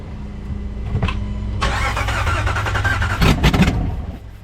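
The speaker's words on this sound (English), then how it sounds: "backfire through the intake" A Dodge Ram engine cranks with a steady starter whirr, then catches into a rough, rising rev before a sharp burst of pops near the end as it backfires through the intake, close and loud, with no voices.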